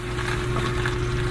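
Onions fry in hot oil with a loud, steady sizzle, a low hum underneath it, in one brief burst.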